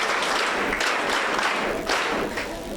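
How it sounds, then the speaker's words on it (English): Steady applause from a crowd at a school prayer breakfast, a dense wash of clapping that holds at an even level for a few seconds with no talking. "First, give them the clap."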